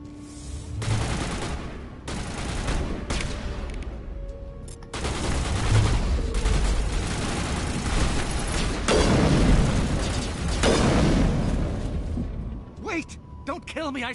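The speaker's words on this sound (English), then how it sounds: "They're sentry turrets." Sentry turrets open fire in Mass Effect Legendary Edition on PS5, with loud, dense bursts of rapid gunfire and booms in long sustained stretches, broken by short pauses and some speech mixed in.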